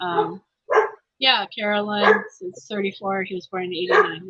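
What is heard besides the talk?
dog barking in the background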